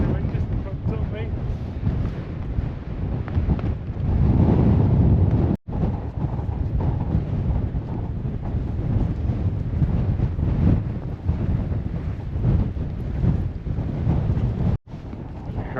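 Strong wind on a wet mountain walk on the Kentmere horseshoe roars hard against the microphone, a loud continuous buffeting that swells and gusts for the whole stretch, with voices partly buried under it.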